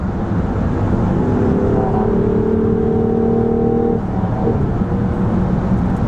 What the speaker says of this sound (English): that's as loud as the gas engine gets with a full throttle acceleration